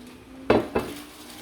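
A metal lid is set down over a pan of chowmein with a green onion garnish, giving two sharp clanks about a quarter second apart, close and clear over a faint kitchen hum.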